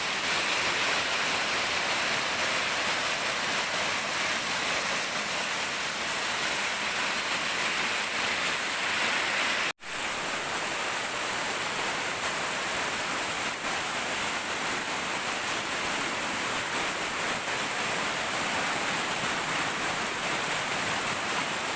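A long river rushes in a constant broadband wash, loud and close, with one abrupt momentary dropout partway through before the same flow resumes, and no voices.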